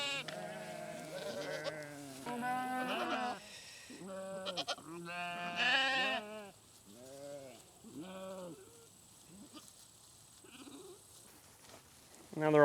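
Sheep bleat in a pasture, a run of repeated wavering calls from several animals at moderate distance, fading toward the end, with a person's voice calling to them at times.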